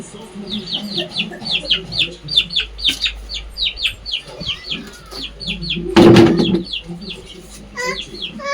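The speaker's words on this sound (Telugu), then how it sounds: "కోళ్ళు అనుకుంటా" Chickens cluck in a quick repeated rhythm nearby, with a louder burst of squawking partway through and faint background noise.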